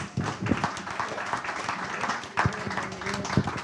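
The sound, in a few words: audience applause for candidates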